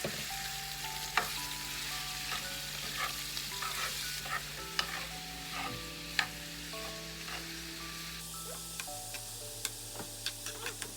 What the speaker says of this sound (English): Stir it up, Daynah. Get the garlic all over it.